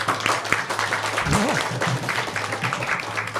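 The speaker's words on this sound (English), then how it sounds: "Give a big round of applause." An audience at a Hare Krishna temple Sunday feast program gives a round of applause, a dense spread of clapping with a voice speaking briefly over it and a low hum underneath.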